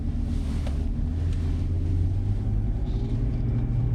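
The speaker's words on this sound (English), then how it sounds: "I just want to hear the engine and see it driving" A VW Touareg SUV with a V10 TDI diesel engine, riding on oversized wheels and tires, runs with a steady low rumble heard from nearby, mixed with some wind noise and no talking.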